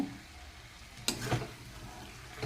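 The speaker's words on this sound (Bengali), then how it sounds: "আলুটাকে আমি ভালো করে কষিয়ে নিয়েছি।" Potatoes and soya chunks fry in spices in a pan over low heat, a faint, soft sizzle with a sharp scrape of stirring near the middle; no talking.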